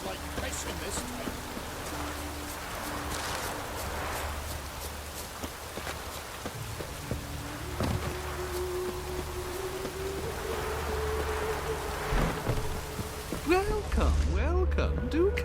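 Steady rain patters on surfaces in Witcher 3: Wild Hunt while footsteps move through it, with people talking over the downpour and a louder stretch near the end.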